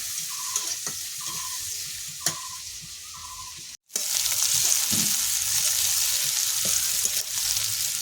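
Chopped onions fry in oil in a wok for a mourola fish curry, a close crackling sizzle with spatula taps and clinks, a brief cut of silence, then louder, denser hissing; no talking.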